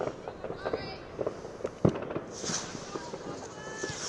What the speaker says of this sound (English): there's literally explosions happening not too far away